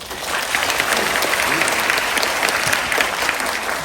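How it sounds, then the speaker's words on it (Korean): An audience at a film event applauds three guests, director, actor and producer, with a continuous, fairly loud round of crowd clapping that holds steady throughout. "세 분에게 다시 한번 박수 부탁드리겠습니다"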